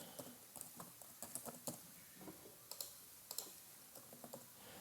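Faint, irregular keystrokes on a computer keyboard while an email address is entered, scattered light taps and clicks with short pauses.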